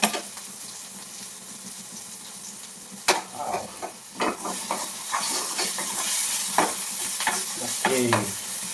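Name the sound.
onions frying and being stirred in a pan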